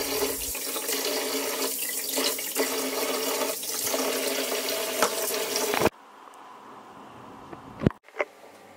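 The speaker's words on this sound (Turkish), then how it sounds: "Bol su yardımıyla şöyle baş parmağımızla orta kısmındaki kanı gidene kadar iyicene yıkayalım" Fish being rinsed by hand under a running kitchen tap to wash out the blood, a steady broadband splash of water that stops abruptly near the end, followed by a few faint clinks and knocks.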